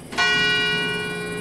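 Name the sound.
church bell ringing 9 pm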